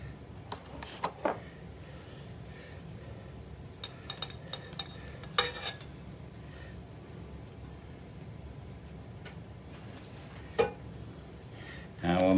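Ground pork being mixed with chopped chives and pistachios in a bowl, a soft continuous squelching stir broken by occasional sharp utensil clinks against the dish.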